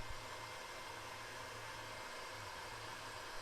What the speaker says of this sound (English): We're going to move our heat shrink up and over those raw connections and shrink them down with a heat gun.